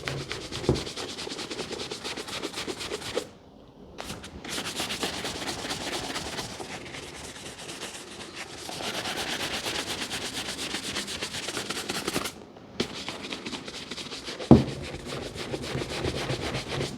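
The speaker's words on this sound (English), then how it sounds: "The brushing at this stage isn't so much for polishing, it's for even distribution of the oil across the surface of the" A brush works oil across the leather of worn Grenson shoes in steady, close, scratchy back-and-forth strokes, broken by a couple of short pauses.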